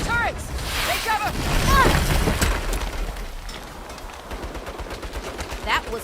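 Saints Row turrets rattle out bursts of rapid gunfire, loud and dense at first, then thinning into scattered shots, with shouting voices and whistling effects mixed in.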